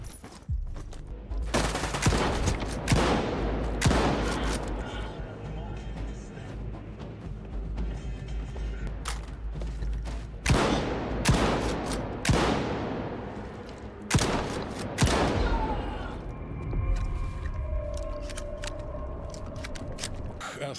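Rapid bursts of gunfire crack out repeatedly, loud and close, with volleys and single shots over a dense, rumbling soundscape in the video game S.T.A.L.K.E.R. 2: Heart of Chornobyl.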